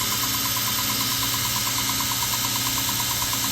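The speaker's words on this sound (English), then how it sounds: "I'm just taking like very light bumps onto the belt sander so I don't overheat my blade" Belt sander grinding a Damascus steel knife blade with light touches gives a steady, loud motor drone with a regular rapid pulsing throughout, close up and without talk.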